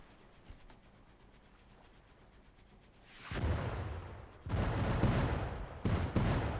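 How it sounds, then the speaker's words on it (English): Artillery fire in Grand Tactician, a Civil War strategy game: after a quiet stretch, a sudden heavy burst of booming shots rolls in, pauses, then returns in loud overlapping volleys. "Under artillery fire?"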